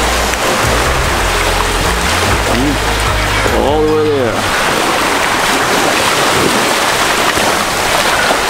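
Ocean waves surge and wash at Gumasa beach in Sarangani, Mindanao, a dense, loud, unbroken roar of surf mixed with wind. A person speaks briefly over it, and a short tonal whine is heard partway through.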